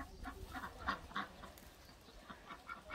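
Ducks quacking in a rural setting near the Russia–Kazakhstan border, a string of short nasal quacks from several birds, faint and somewhat distant with no talking.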